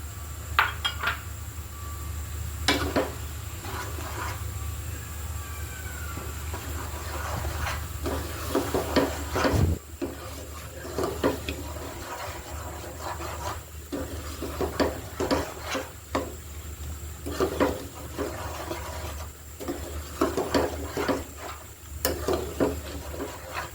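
Catla fish roe cooks in a pan while being stirred continuously with a utensil, producing repeated scraping clinks and taps against the metal over a low background hiss, moderately near and fairly quiet.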